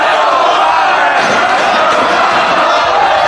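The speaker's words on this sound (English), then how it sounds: "the crowd's starting to get a little riled up here in Chicago." Wrestling crowd at a professional wrestling title match in Chicago getting riled up, a loud dense roar of shouting and chanting that stays constant throughout.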